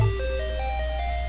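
Chiptune game music from Chemco's Deja Vu, a detective point-and-click adventure, plays a simple stepwise square-wave melody over a steady low drone. The notes are moderately loud and evenly spaced, with no voices.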